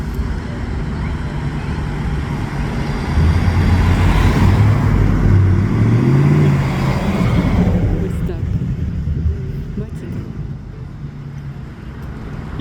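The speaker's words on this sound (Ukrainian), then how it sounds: "Нати вам іще парад машин." A parade of classic cars rolls past on a spring street in White Rock, a broad, steady roar of passing traffic that swells in the middle and then eases, with people talking over it.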